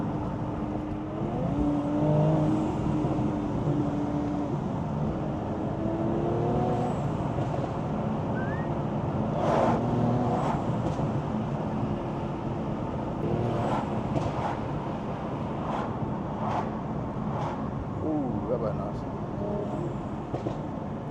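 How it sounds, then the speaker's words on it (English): A Mercedes C43 AMG Stage 2 turbocharged engine with an MST intake drones steadily while sharp pops and bangs crackle repeatedly from the exhaust, with someone talking over the noise. "So lots of pops and bangs still"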